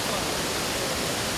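Guangxi waterfall near Luang Prabang, Laos, known locally as the 'immortal's beard' falls, roaring as a steady, loud, broadband wash of falling water throughout, with no voices.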